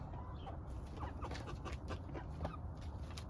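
Several chickens cluck softly close by, short irregular clucks and murmurs over a quiet farmyard background.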